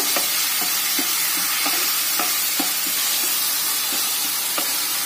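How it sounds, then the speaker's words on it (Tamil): Handfuls of coriander and mint leaves fry in oil in a pan for Malabar chicken dum biryani, a close, constant hissing sizzle punctuated by regular spatula taps and scrapes roughly every half second, no voices. "ஒரு கைப்பிடி அளவு கொத்தமல்லி, போட்டு நல்லா வதக்கிக்கங்க"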